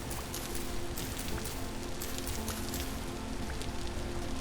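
Steady rain in the Vintage Story survival game falls in a constant, even wash of patter with scattered louder drop ticks, close and continuous throughout, with no talking.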